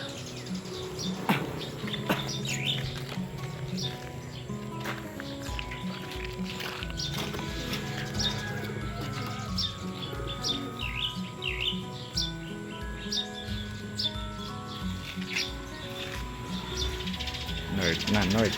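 A flock of arriving birds chirps and tweets steadily throughout, close and busy, while people talk over the birdsong in an outdoor release setting.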